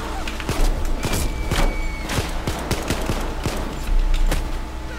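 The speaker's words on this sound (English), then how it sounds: "It's neat how even some of the guns sound different based on what you're firing, what the law enforcement is firing." Gunfire in Payday 2, a heist shooter: a steady stream of sharp shots crackles in uneven bursts over a continuous background rumble, with several louder thumping reports standing out, no talking.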